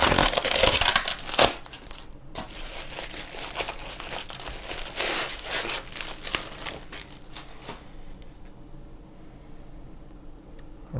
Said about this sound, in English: Let's go ahead and open the tape. See if we can pull that apart.